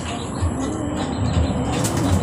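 Racing pigeons landing at a loft after a 79.63 km training flight, their wings flapping in a steady, close, breathy whir over broad outdoor noise.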